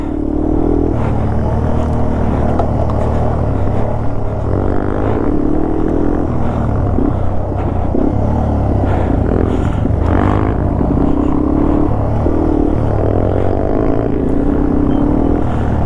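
A Yamaha TW200 motorcycle rumbles along a dirt trail on Colorado's North Divide, with a loud, continuous engine note close by, shifting throttle, and clattering over rough ground, with no talk.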